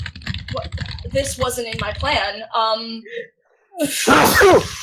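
A person talks briefly, then after a short pause a single loud, sharp sneeze bursts out close by.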